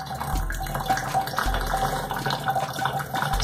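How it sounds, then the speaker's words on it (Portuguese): Water poured from a container into a bottle while mixing an anti-chlorine solution with sodium thiosulfate, a continuous splashing gurgle with low churning underneath. "derramando a água aí dentro"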